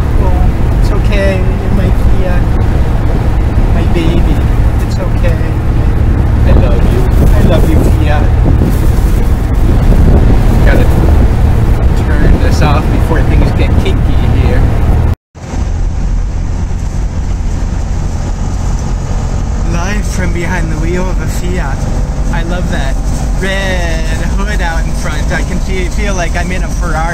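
Classic Fiat Spider 124 on the road, loud wind buffeting and engine drone filling the cabin, with people talking over the noise; a brief cut midway, then a quieter steadier rush continues.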